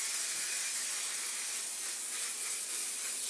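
A steady, close hiss of varnish sprayed from a spray can runs without a break, bright and airy, with no voices.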